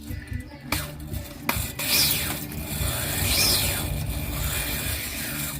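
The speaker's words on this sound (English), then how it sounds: "I'm going to take my drill with the wire brush and clean up the top of this ball joint" A drill spinning a wire brush against a ball joint on a 1965 Chevelle gives a rough, scraping whir that rises and falls in pitch, broken by a few sharp knocks, close up and with no talk.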